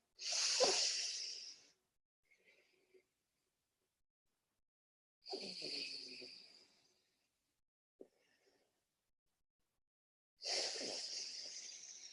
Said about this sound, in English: alternate nostril breathing 3 times.